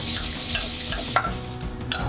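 Scallops seared in a hot pan and basted, giving a loud, bright, continuous sizzle with a few spoon clinks, the hiss thinning toward the end; no talking.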